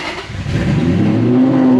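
An engine cranks and catches, then revs up into a loud, rising roar close by.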